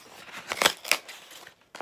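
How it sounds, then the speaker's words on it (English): Scissors or a blade cutting open the cardboard shipping box of a 1 oz PAMP gold bullion bar, a few sharp crackling snips and cracks at close range with quiet pauses between them. "So I'm gonna cut it. I'm gonna cut it right here."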